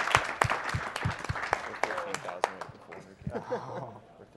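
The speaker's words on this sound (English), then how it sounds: "Let's clap for the synchronized death." Scattered clapping from a small group at a live speedrunning charity marathon, a few sharp claps mixed with laughter and casual talk, fairly quiet and brief.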